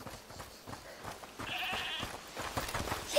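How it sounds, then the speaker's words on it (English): A goat bleats in the video game A Plague Tale Requiem, a few wavering calls against a quiet ambient backdrop, moderately near. "Is that the goat you talked about?"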